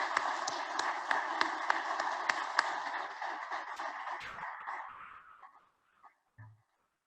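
Audience applause for project volunteers standing to be recognized at a ceremony, a room of clapping hands that fades out after about five seconds, followed by a brief low thump.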